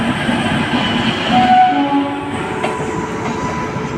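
A train with a WAP-4 locomotive, likely an intercity or passenger service near Gonda, passes close by with loud rolling rumble and clatter of wheels, a brief horn tone near the middle, heard from aboard a moving train.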